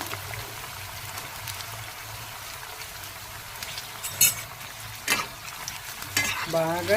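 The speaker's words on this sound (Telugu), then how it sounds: "ఇలా కలుపుకుంటూ వేయించుకోవాలి" Ivy gourd pieces and peanuts frying in hot oil, a steady soft sizzle with the scrape and clatter of a spoon stirring the pan at intervals, a brief word spoken near the end.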